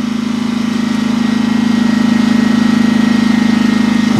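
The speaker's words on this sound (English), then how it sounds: "You hear the generators loading down." Generators running steadily under load while an onboard charger tops up lithium and lead-acid battery banks, a continuous loud engine drone with a strong low hum throughout, no talking.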